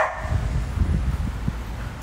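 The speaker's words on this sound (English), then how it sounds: "No barking." A pet dog gives a few short, muffled barks and low yips at close range in a home, scattered irregularly over a quiet background.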